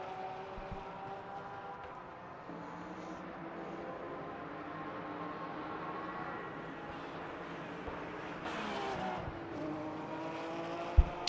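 A GT3 race car runs at full throttle at Sebring in the sim racing game Le Mans Ultimate, a steady high engine drone with gear changes and a brief tire squeal, no talk.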